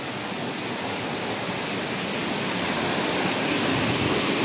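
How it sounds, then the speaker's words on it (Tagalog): Forest stream water overflowing its banks, a loud, steady broadband rush that holds unbroken throughout without a pause. "Umawas yung tubig"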